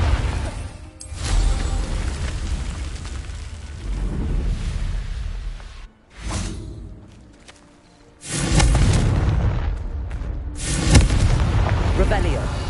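Confringo spell blasts from Hogwarts Legacy boom out in heavy explosive bursts, two big clusters separated by a short lull, with voices speaking between the blasts.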